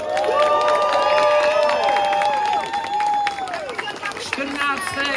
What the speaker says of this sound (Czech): rozlučte se ještě obrovským bouřlivým potleskem se skupinou